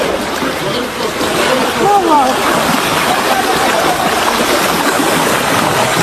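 Floodwater on roads turned to rivers by torrential early-morning rainfall in Lagos, a continuous broadband rush and splash of moving water, with voices talking over it.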